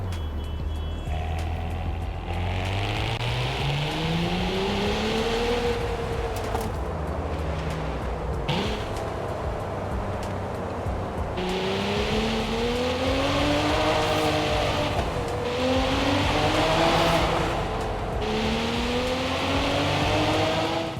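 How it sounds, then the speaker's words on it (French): A Cadillac CT4-V's V6 engine in Forza Horizon 5 revs repeatedly, pitch climbing through several gear-like sweeps up to about 7000 rpm, loud and close, with a steady rough growl throughout. "J'ai trouvé que le son de cette voiture, notamment à bas régime, était vraiment chouette"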